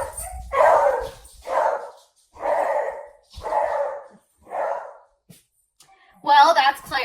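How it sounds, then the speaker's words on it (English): A beagle barks five times in a steady series of loud, close woofs spaced about a second apart, followed after a short pause by a sharper, higher burst of yipping or whining. "So just in case you're curious, he's a beagle."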